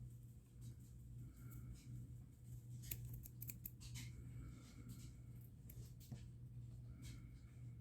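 Material on a CT Spuddler fly being trimmed with scissors: a short cluster of crisp, close snips in the middle of an otherwise quiet stretch with faint background hum.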